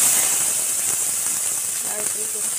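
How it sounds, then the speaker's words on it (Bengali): Grated coconut sizzles in hot oil left from frying potatoes, a steady loud hiss throughout with a few faint clinks of a utensil near the end. "ওই তেলেই দিয়ে দেবো নারকেল কুচি"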